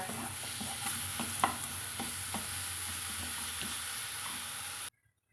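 Sweet potato halwa with brown sugar being stirred in a pan, a steady soft sizzle with scattered scraping strokes of a spoon, close by, ending in sudden silence, no speech.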